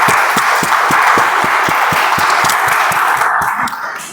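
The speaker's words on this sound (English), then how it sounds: "a big round of applause to our evaluator and speaker, Toastmaster Prashant" A room of people at a Toastmasters club meeting clapping for an evaluator and speaker, sustained close applause with distinct individual claps pulsing through it and tapering off at the end.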